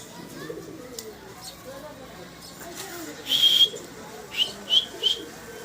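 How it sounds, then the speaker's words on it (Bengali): A large fancy King pigeon in a cage coos and whistles, first one drawn-out call and then three short rising notes close together. People talk quietly in the background. "হ্যাঁ ভাই, অনেক বড় কবুতর ওই যে খাসার ভিতরে দেখা যাইতেছে।"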